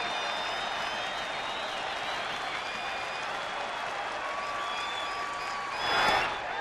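Baseball stadium crowd during an Atlanta–Los Angeles Dodgers game, a steady wash of cheering and applause throughout that swells into a louder roar of approval near the end.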